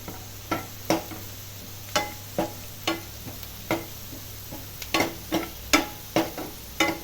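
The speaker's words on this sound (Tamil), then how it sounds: "தேங்காய் எண்ணெயில் கருவேப்பிலையும் பச்சை மிளகா பட்டெல்லாம் வதங்கினா என்ன வாசனை வருது" Curry leaves and green chilies fry in coconut oil, a soft sizzle broken by a steady series of spatula scrapes and taps against the pan, close and quiet.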